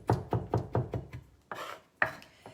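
A kitchen knife chops parsley on a cutting board, five quick, evenly spaced close knocks followed by two slower, separated strikes, crisp and alone without talking.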